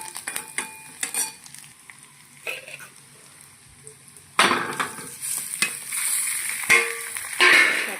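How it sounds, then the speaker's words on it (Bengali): Potatoes and tomatoes fry with chili and onion in a pan, starting with soft clinks and stirring taps, then swelling into a loud close sizzle with scraping as the ingredients are tossed together. "একসাথে নেড়ে চেড়ে ভেজে নেবো"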